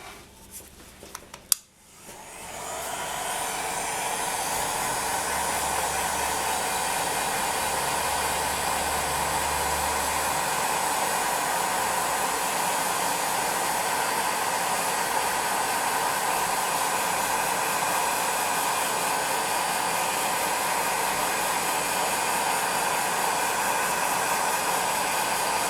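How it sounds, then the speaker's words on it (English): A Nozzito heat gun on its hottest setting and lowest fan speed blows steadily onto polymer clay, a constant close-up whooshing hiss that starts with a click and runs unbroken and alone for about 24 seconds. "I'm going to just use my heat gun, and I'm using a Nozzito heat gun"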